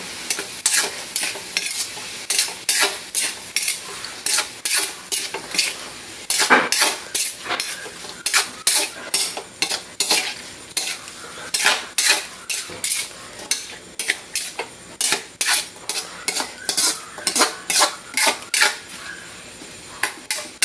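A spatula stirring and scraping food in a frying pan over a steady sizzle, with rapid rhythmic metallic clacks close up for about twenty seconds and no talk.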